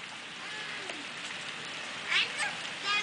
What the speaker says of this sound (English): What are you doing out there in the rain, Charlotte?